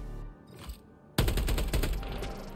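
The AR-23P Liberator Penetrator rifle in Helldivers 2 fires in burst mode after a quiet moment, a sudden loud volley of rapid shots lasting over a second.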